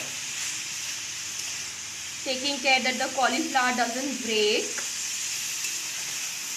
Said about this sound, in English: You can see the sizzling sound you can hear.